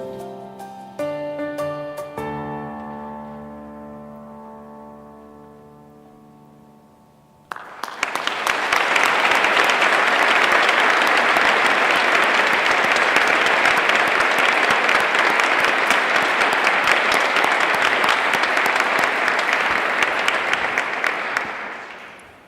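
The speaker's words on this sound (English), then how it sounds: "So I ended the applause" After a few seconds of a fading musical tone, audience applause at a nonprofit awareness day event bursts in loudly and continues as dense, steady clapping from a sizable crowd for the rest of the stretch.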